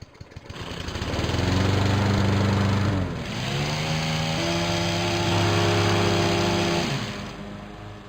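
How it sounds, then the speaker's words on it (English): A lawn mower engine drones steadily while a yard is mowed and trimmed, close and loud, with its pitch shifting a few times as the load changes. "trimming, edging, and mowing"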